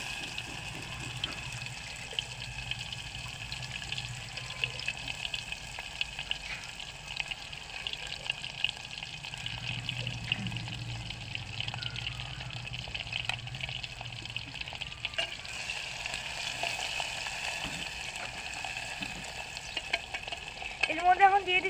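Chopped onion frying in oil for biryani, a soft, continuous sizzle with occasional stirring scrapes running throughout, fairly quiet and close, briefly louder near the end.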